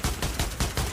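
Rapid, loud gunshots from a firearm fired in close-quarters shooting practice, several sharp bursts cracking in quick succession with no talk.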